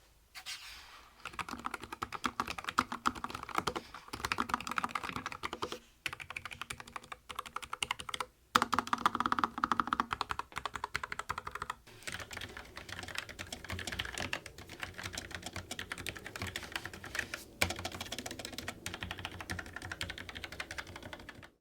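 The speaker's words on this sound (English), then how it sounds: "Now here's a typing test to see what the ProtoArc reds versus the Logitech browns actually sound like." Steady typing on mechanical keyboards, a ProtoArc with red switches and a Logitech with brown switches, gives a dense run of close clicky keystrokes with a few brief pauses and no speech.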